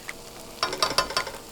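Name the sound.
doenjang stew paste sizzling in a stainless steel pan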